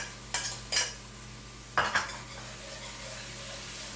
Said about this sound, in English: Let it fry for a while.